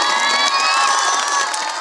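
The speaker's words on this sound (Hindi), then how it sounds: "जोरदार तालियां दीजिए।" Children in an audience at a Republic Day awards ceremony cheer and shout loudly in a continuous, bright roar of many voices, with applause mixed into the sustained crowd noise.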